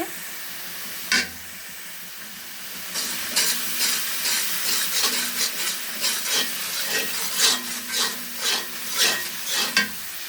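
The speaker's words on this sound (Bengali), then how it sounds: "এই যে পেঁয়াজ ভেজে নিচ্ছি আগে তারপরে ময় মশলা দিয়ে দিব" Onions frying with spices being stir-cooked in a pan, a constant sizzle broken by rhythmic scraping strokes of a spatula, close and fairly loud after a quieter opening.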